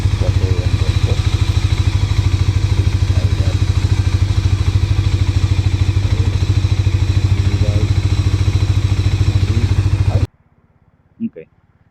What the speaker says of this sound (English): we're gonna push the full throttle to see how far this can go